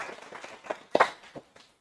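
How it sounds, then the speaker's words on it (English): Audience at an outdoor ditch press conference applauding for a congresswoman, light scattered claps from a small crowd, fairly faint and brief, fading out after under two seconds. "give her a warm round of applause"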